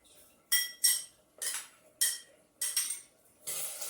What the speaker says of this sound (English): I'm just going to stir that around